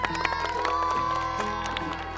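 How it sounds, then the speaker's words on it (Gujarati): Audience applause and cheering from a crowd of children and adults at a school game-show event at Ranip Saraswati School, a steady dense wash of clapping and shouting that fills the clip with no pause. "જોરદાર તાળીઓ થઈ જાય યાર."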